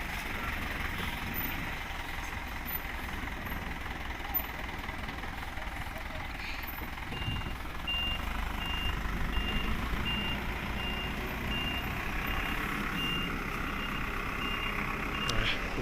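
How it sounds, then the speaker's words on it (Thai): A garbage truck reverses to dump its load, with evenly spaced high reversing beeps over a steady heavy diesel rumble, outdoors at a large dump pit, while people talk nearby. "เนี่ยรถขยะมาเทขยะ"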